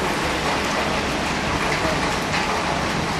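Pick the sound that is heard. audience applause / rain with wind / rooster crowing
rain with wind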